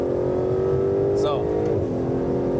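An Aston Martin DB11 accelerates hard on a race track, its engine a loud, sustained drone heard from inside the car. A person talks over it.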